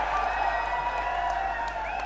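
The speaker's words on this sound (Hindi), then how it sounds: "एक बार जोरदार तालियां बजा करके" Crowd clapping at a Jannayak Janta Party political rally in Hisar, a dense continuous burst of applause mixed with a whistle-like tone and loud public-address hum.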